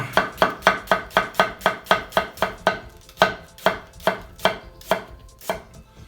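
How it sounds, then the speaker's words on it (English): A knife chops onion on a cutting board during a nakiri knife comparison: about twenty crisp, evenly spaced cuts thud close and loud in steady rhythm, with a short pause near the middle. "These onions are a little bit softer, so just cut down through"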